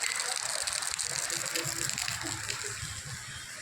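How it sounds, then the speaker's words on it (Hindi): Water pouring down from above onto a street in Satpuli market, Pauri Garhwal, Uttarakhand, a steady rushing gush that continues without a break, fairly loud and close, with no talk over it. "ये गिर रहा ऊपर से पानी।"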